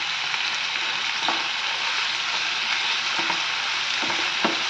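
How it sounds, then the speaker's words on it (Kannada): Paneer shallow-frying in a pan with spring onion and coriander, a steady close sizzle and crackle with occasional soft stirring knocks, no voices. "ಪನ್ನೀರನ್ನ ಫ್ರೈ ಮಾಡ್ಕೊಳ್ತಾ ಇದ್ದೀನಿ."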